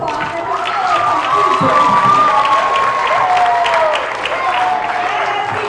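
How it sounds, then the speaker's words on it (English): Loud applause mixed with cheering and high children's shouts at an elementary school assembly for pre-K to third graders, a bright whooping voice rising over the clapping crowd throughout. "round of applause for her"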